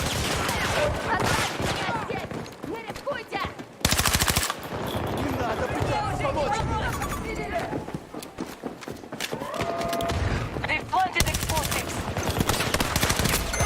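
Dense video game gunfire, with sniper shots among rapid automatic bursts, runs loud and continuous throughout, with chaotic battle noise and a voice talking over it.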